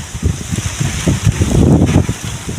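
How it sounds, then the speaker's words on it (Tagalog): Strong wind buffeting outdoors, gusting and rumbling loudly against the microphone in a low, uneven roar with no talking. "Hangin na tong lugar karon diri guys."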